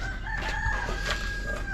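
A farmyard rooster crows once, fairly near and clear, over steady low background noise on a rural homestead with a hen nesting box.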